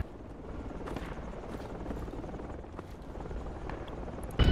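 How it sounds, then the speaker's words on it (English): Helicopter in the tactical shooter game Project Reality, a steady rotor drone heard at a distance beneath faint gameplay noise, with a sharp louder burst at the very end. "Enemy chopper to our west."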